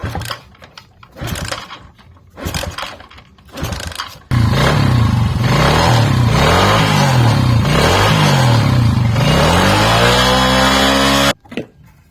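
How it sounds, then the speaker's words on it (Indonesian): A Suzuki Shogun motorcycle, freshly oiled after stalling, sputters through a few short cranking attempts, then catches and runs. Its small engine revs up and down in rhythmic surges close to the microphone, ending in a rising rev before it cuts off. "Setelah kita kasih oli, kita coba hidupkan ya."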